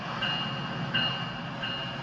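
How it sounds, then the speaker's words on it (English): An EMD F125 diesel passenger locomotive on the Antelope Valley Line in Train Sim World 4 gives a steady, even engine rumble, with faint high tones recurring about every 0.7 seconds. "The EMD F125 is a passenger locomotive manufactured by Electromotive Diesel for the North American market."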